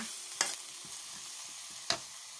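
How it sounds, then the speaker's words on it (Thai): Food sizzles steadily in a pan over medium heat while being stir-fried, with two sharp scraping clacks of a utensil against the pan over the constant hiss. "เราก็จะคั่วแบบนี้นะคะ"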